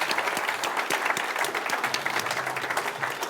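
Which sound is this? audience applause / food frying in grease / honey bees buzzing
audience applause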